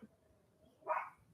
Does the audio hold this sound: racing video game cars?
no